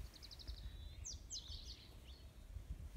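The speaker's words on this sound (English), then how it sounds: "in amongst the birdsong, listen out for great spotted woodpeckers drumming" Quiet woodland birdsong: a rapid series of high chirps followed by sweeping whistled notes, heard faintly over a low background rumble.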